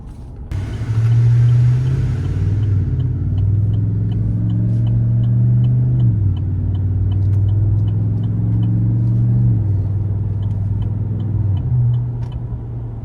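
A car fitted with a Flowmaster exhaust cruises along, its low, steady engine drone rising and dipping slightly with throttle, heard from inside and continuous with no talking.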